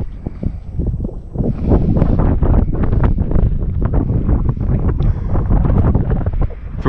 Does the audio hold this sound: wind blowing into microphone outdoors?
yes